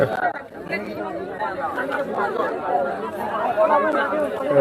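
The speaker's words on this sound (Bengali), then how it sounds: "লোকজন আসলে প্রচুর পরিমাণে এখানে ভিড় করছে।" Dense crowd chatter at the scene of a train collision that killed four people, many overlapping voices murmuring and talking steadily at close range with no single voice standing out.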